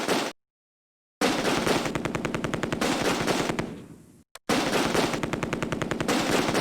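Sustained machine gun bursts from a machine gun team in the WWII tactical game Close Combat, loud rapid rhythmic fire broken by a short silence and a brief fade before the firing resumes.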